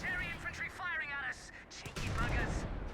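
Gunfire and explosions from the real-time strategy game Company of Heroes 2 during a match involving a Valentine tank and sappers, bursting intermittently under continuous commentary.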